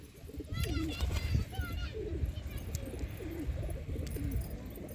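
Pigeons kept in a village coop in Shirvali, Maharashtra, cooing in repeated low rolling calls close by, with a few higher chirps and a person talking in the background.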